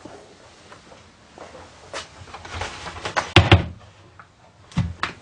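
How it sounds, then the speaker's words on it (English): Oven door being lifted off its hinges after the hinge catches are flicked, a series of soft clunks and metallic knocks building to a cluster of louder thumps, then a final pair of knocks. "then the door should just lift straight out"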